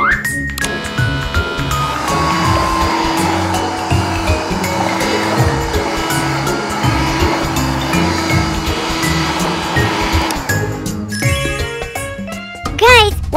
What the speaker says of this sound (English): And now it's time for the vacuum cleaner!